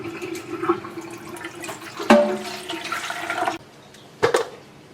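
Water, 1 1/3 cups, is poured into a breadmaker pan, a steady splashing pour that runs a few seconds, ends abruptly, then a brief clunk follows.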